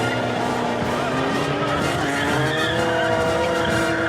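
Cars making passes in a parking lot at a street car meet, with tires skidding and squealing over loud revving engines, continuous and close.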